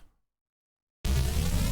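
A dense, sustained synthetic noise texture from the Phase Plant synthesizer cuts in abruptly after a second of silence and holds steady, bright and full across the range.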